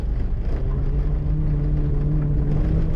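A rallycross car runs flat out through a slalom at a winter rallycross event, its engine holding a loud, steady droning rumble with a sustained tone throughout and no talk.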